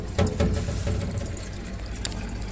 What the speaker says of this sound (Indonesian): dan bersuara gemericik seperti air menetes.